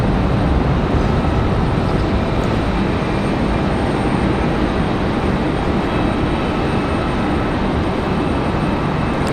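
A United Airlines jet departing Raleigh-Durham airport, bound for Denver, gives a loud, steady, broadband engine roar that holds without break from start to finish, close and dominant with no talk over it.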